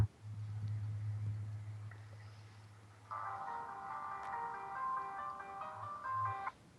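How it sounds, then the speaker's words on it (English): A low hum holds for a few seconds, then a bright chiming electronic text message tone plays a short looping melody, fairly quiet. "That is actually my text message tone."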